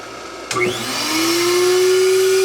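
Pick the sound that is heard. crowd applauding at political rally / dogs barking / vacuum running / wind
vacuum running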